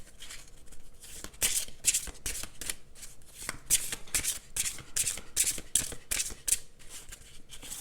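Oracle cards being shuffled by hand, a run of crisp riffling bursts in uneven rhythm, close and fairly loud, with no talking.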